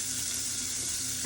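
Turkey neck bones sizzle in half a tablespoon of melted butter in a pan, a brief, dense, steady frying hiss heard close up with no talk.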